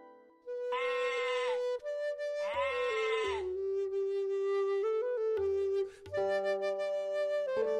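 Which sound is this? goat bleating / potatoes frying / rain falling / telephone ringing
goat bleating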